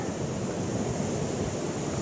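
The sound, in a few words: ocean waves surf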